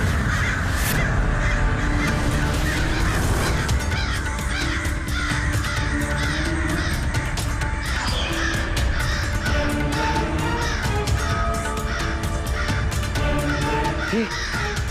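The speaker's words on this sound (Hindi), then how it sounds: "ये कौवे कर क्या रहे हैं?" Many crows caw loudly and repeatedly over a dense, continuous chorus of birds and background noise, with no voices, in a dramatic scene that keeps building.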